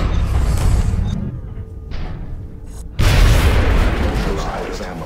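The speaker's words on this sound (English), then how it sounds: "That is an explosion that I enjoy." A blast goes off in the strategy game XCOM, a heavy, loud boom that bursts in suddenly after a quieter stretch of rumbling battle noise and then slowly fades.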